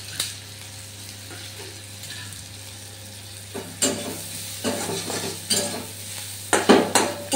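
Onion with green chili frying in a pan, a steady low sizzle with scraping stir bursts that grow louder and more frequent toward the end, with no talking.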